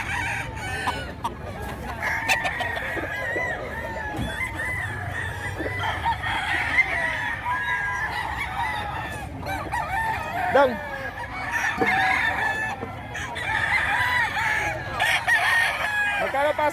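Fighting roosters crow and cluck repeatedly at a market in Bocaue, Bulacan, with several birds overlapping at mid distance while people talk and haggle in the background throughout.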